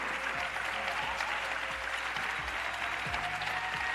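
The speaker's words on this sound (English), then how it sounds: "Come on, clap for them." Audience applause at a town hall event, a dense, steady wash of clapping from a large crowd that holds at an even level throughout, with faint voices mixed underneath.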